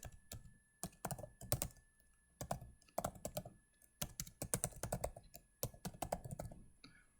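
Fast, uneven typing clatters on a computer keyboard, with bursts of closely spaced keystrokes and brief pauses, close and clear with no talk.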